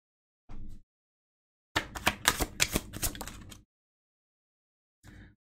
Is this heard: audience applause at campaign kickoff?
no